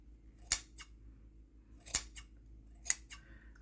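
Scissors snip through earring material in three crisp, separate cuts spaced about a second apart, each a sharp close metallic snap over a quiet background, with no talking.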